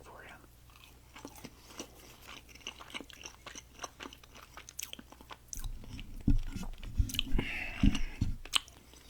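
Close, crunchy bites and chewing of homemade protein cookies, irregular and growing busier toward the end, with a person speaking briefly.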